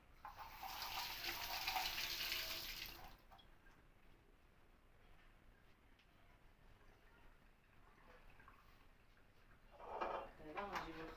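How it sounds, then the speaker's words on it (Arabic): Tap water gushes loudly into a sink for about three seconds while hands are washed in a home kitchen. It then cuts off, leaving quiet room tone and a brief clatter near the end. "نشل يدي"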